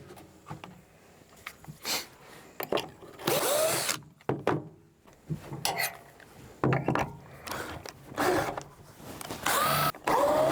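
Power drill driving screws while assembling a wooden shoe rack and hall tree bench, short intermittent whirring bursts separated by quiet gaps and small clanks of handling, fairly close.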